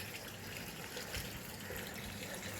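Tap water running steadily on a rooftop, a continuous broadband gush and splash that stays even and moderately faint throughout with no voices.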